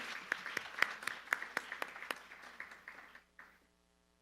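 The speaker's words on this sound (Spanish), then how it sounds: "Démosle un aplauso también a Sergio" Applause from a conference audience welcoming a panelist, a steady patter of many hands with sharp individual claps standing out, tapering off and fading to near silence.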